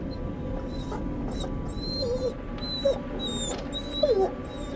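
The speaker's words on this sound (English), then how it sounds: "Puppy! Whimpering." A puppy whimpers in the video game The Devil in Me, with several thin, high whines rising and falling over a steady low ambient background.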